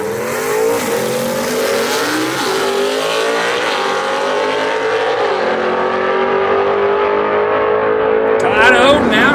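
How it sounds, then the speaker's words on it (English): Gasser drag race cars, including a Camaro, launching down a dragway strip, their engines roaring loud and steady with rising revs, under continuous excited commentary. "Motors turning, tires are burning."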